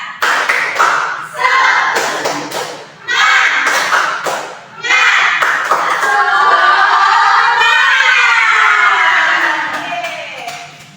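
Schoolchildren in an Indonesian primary classroom perform the 'tepuk semangat' spirit chant, loud rhythmic group clapping in bursts, with young voices chanting together between and over the claps.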